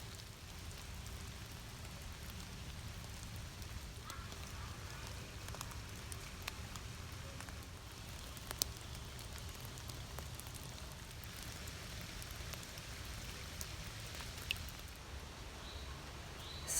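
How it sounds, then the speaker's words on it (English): Steady rain falls on surfaces outside a workshop on a rainy morning, a continuous soft broadband patter with occasional brighter drips and ticks standing out, fairly quiet and constant with no voices. "And lately I watch the rain."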